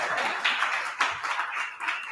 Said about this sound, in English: I want some applause before we even start.